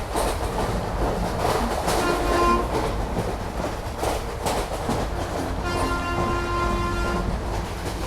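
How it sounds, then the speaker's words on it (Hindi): Train rumbling past on an Odisha railway line as the last of three back-to-back trains, with steady clattering wheels and carriage noise close by and a couple of faint horn tones. "चलो, ये गुजरी आखिरी ट्रेन।"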